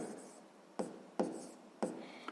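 A pen scratches out math calculations for a sixth-grade exercise, close and quiet, with soft strokes broken by three sharper taps against the paper.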